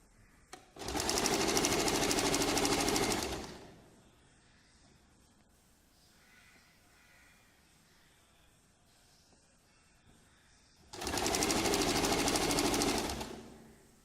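A sewing machine stitches a sleeve border in two loud, steady bursts of fast whirring, each about three seconds long, with a quiet pause between them.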